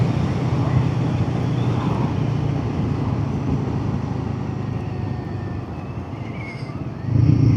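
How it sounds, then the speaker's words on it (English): Royal Enfield Guerrilla 450 motorcycle being ridden, a continuous engine drone with rushing wind noise, steady throughout and swelling louder at the very end. "I've been waiting so long to ride this bike."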